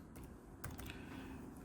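Someone types a city name on a computer keyboard, the quick, light key clicks coming in short bursts close up over a quiet room with no one speaking.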